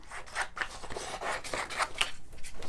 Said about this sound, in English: So let me cut this out.